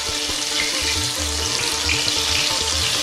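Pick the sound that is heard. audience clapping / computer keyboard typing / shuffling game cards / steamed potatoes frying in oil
steamed potatoes frying in oil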